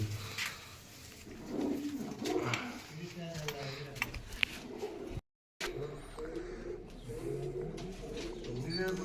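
A pigeon cooing nearby, soft repeated throaty coos under frequent talking, with a brief dropout midway.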